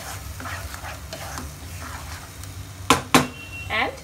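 A spoon stirs fish curry mixture in a cooking pan, giving soft scraping and a couple of sharp metallic clinks near the end, with faint kitchen background and some voice underneath.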